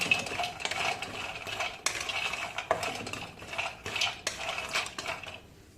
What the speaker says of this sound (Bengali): এবার এটা ভালো করে ড্রাই রোস্ট করে নেব